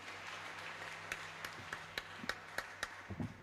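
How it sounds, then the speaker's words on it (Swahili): A church congregation at a Kikuyu service breaking into sparse, uneven hand claps that grow into sharper individual claps over a steady background hum. "Pigia makofi mazuri."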